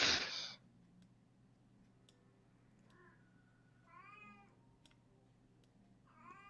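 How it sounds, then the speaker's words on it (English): A pet cat meows several times indoors, a loud opening cry followed by shorter, softer mews spaced across a quiet room with a low steady hum beneath. "even the cat's getting involved"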